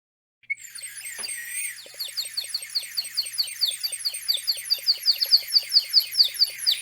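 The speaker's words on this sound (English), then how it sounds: "when you fill it with water, it sounds kind of like tiny birds as you blow into it" A rapid series of warbling, chirpy whistles, like tiny birds twittering, repeating in a quick steady rhythm and growing slightly louder, with no talking.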